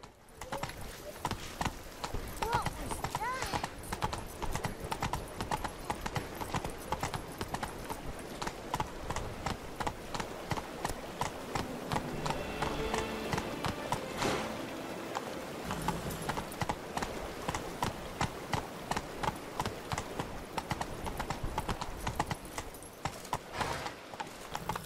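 Horse hooves clip-clop in steady, rapid rhythm throughout a long stretch of Witcher 3 gameplay in the Blood and Wine expansion, near and continuous, with faint game ambience beneath.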